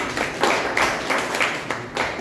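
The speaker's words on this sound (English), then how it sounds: "Give a round of applause." Scattered applause from a small meeting audience at a public-speaking club gathering, a handful of people clapping in uneven bursts at moderate distance for a couple of seconds, with no voices over it.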